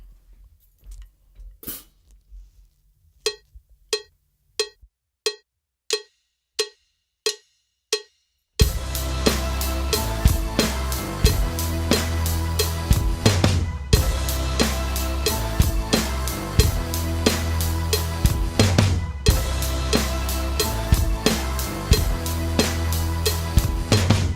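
A run of sharp, evenly spaced drum hits, snare and floor tom, mimicking a gun being cocked, then a loud, dense stretch of music with pounding beats, from a drum lesson.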